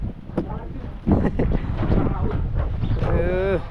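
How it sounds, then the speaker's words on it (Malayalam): Strong, cold wind in Kashmir buffets the microphone with a steady, rough rumble while a person talks over it. "കാറ്റ് നല്ല കാറ്റാണ്"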